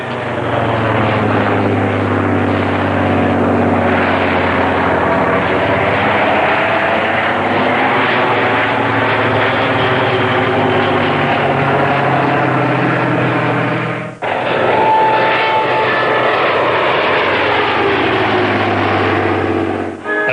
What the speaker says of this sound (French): Écoutez le son de ce Falcon, 12 cylindres, 260 chevaux.